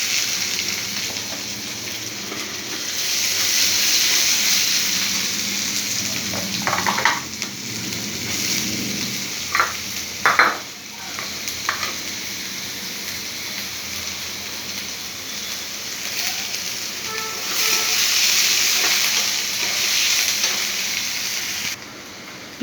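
Onions frying in white oil for veg momo give a steady hiss close by, broken midway by a few clattering stirs and scrapes before the sizzle rises again.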